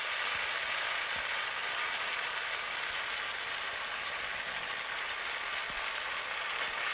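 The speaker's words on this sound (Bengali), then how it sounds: "দিয়ে মশলাটাকে আরও একটু ভালো করে কষিয়ে নেবো। আর এর সাথে আমি দিয়ে দেবো এখন হলুদ গুঁড়ো।" Ground spice paste and turmeric frying in oil for koi fish curry, a continuous bright, dense sizzle with faint scraping underneath.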